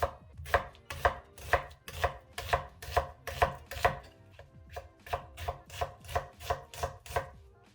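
Knife cutting half a peeled white onion into thin slices on a board, about fifteen crisp regular chops in a quick steady rhythm with a short pause midway, close and clear with no talking.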